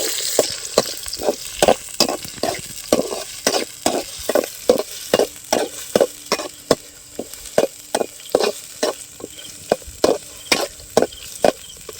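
Onions and fenugreek seeds fry in hot oil as Korameenu fish curry is made, a steady close sizzle broken by a regular series of sharp scraping stirs from a spatula against the pan throughout.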